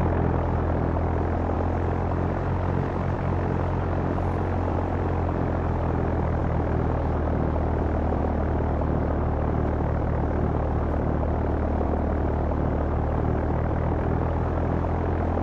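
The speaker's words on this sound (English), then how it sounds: "Cessna November 5042 Foxtrot, taking off runway 4" Cessna propeller plane in Flight Simulator X throttling up for takeoff on runway 4 at Friday Harbor, a loud continuous engine drone and propeller buzz holding steady throughout.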